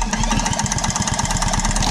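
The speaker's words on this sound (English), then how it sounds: "I don't want to wind it over too much because it is a two-stroke machine." The two-stroke engine of a vintage Atco hover mower is turned over, giving a rapid, even train of close chugging pulses under a steady mechanical drone.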